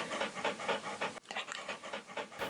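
A dog pants rapidly and steadily up close, a rhythmic breathy huffing repeated several times a second, alone without talk.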